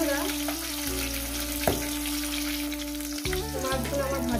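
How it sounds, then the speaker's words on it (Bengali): Pieces of katla fish fry in hot oil with a steady crackling sizzle, close and moderately loud, with light clinks and stirring sounds from the pan. "মাছগুলো আমার ভাজা হয়ে গেছে"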